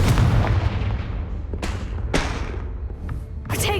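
Blasting spell explosions in the Hogwarts Legacy video game, a dense booming barrage with several sharp blasts and cracks rising out of the rumble, loud and close, with no talking.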